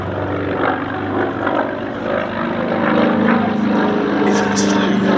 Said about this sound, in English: Wildcat with the R1830 engine